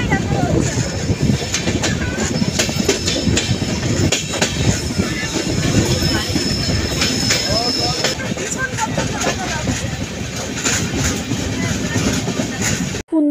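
A passenger train rolling on rails during a journey near Vizag, with a loud continuous rumble, rhythmic clickety-clack of wheels and some voices in the carriage, cutting off abruptly at the end.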